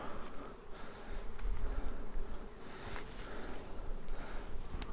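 Honeybees hum steadily around a classic ten-frame wooden hive, a close, continuous buzz with individual insects flying past the microphone, no one speaking.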